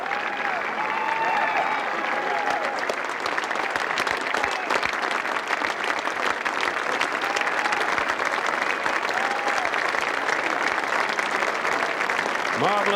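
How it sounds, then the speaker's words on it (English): A golf gallery applauds Bernhard Langer as he nears the green in the 1993 Masters final round, with dense, sustained clapping from a large crowd and a voice talking faintly over it. "The applause will rise in enthusiasm as he gets near to the green."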